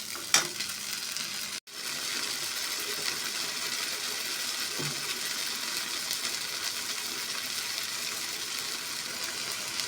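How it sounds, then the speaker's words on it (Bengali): Onion with ginger-garlic paste, turmeric and chili powder frying in a pan for a Bengali chicken and pumpkin curry, a steady close sizzle throughout with a brief clatter near the start and no talk. "পেঁয়াজটা হালকা নরম করে ভেজে নিয়েছি। এখন দিয়ে দেব আদা রসুনের পেস্ট।"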